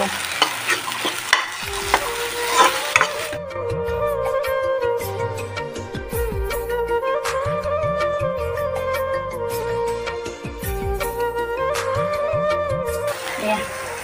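Egg stir-fries in a pan, giving brisk scraping and sizzle at first. Loud tonal music soon sits over the continuing stirring noise.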